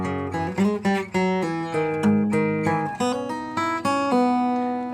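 An acoustic guitar plays the opening of a piece, plucked notes with hammer-ons and pull-offs ringing in a flowing melodic run, close and clear with no talking.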